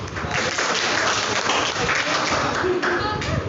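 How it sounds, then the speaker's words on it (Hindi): A class of school students claps for a classmate during a Hindi lesson, a dense, steady burst of applause lasting a few seconds with voices mixed in. "तालियां"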